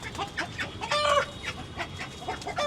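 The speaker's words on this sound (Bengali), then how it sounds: "ওই দেখেন ওই যে মুরগি আরেকটা কই গেছে" Chickens clucking nearby in short repeated bursts, with a brief louder squawk in the middle.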